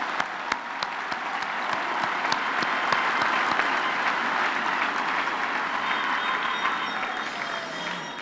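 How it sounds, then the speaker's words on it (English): Applause for graduates fills a university graduation ceremony hall: steady, dense clapping from a large seated audience, sustained at an even level for several seconds with sharp individual claps standing out. "I think we can give all our graduates another round of applause."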